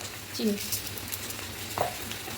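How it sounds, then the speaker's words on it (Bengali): Bay leaf and whole garam masala sizzle and crackle in hot oil as a tempering for mutton kosha, a soft, steady frying hiss with a few brief pops. "এবার এই তেলেই আমি ফোড়নের জন্য দিয়ে দেবো তেজপাতা আর গোটা গরম মশলা"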